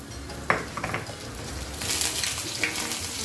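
A topping ingredient frying in a pan for a ginataang hipon with kalabasa dish: a steady sizzle with a few sharp clinks of utensil against the pan, close and fairly loud.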